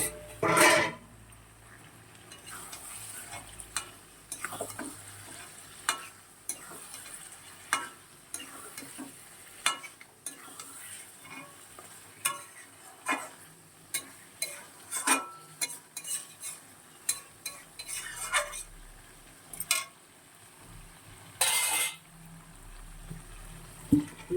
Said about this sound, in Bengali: এগুলো মাংসটা দিয়ে দিলাম,